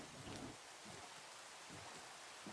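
Steady rain falls in a sandbox survival video game, a soft, continuous hiss of drops that stays faint and even throughout with no other clear sounds on top.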